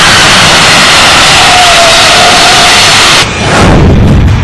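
A jet airliner landing on a runway in a crash landing, its wheel striking the tarmac and throwing sparks; a loud continuous engine roar with a rising whine and a sudden change near the end, no voices.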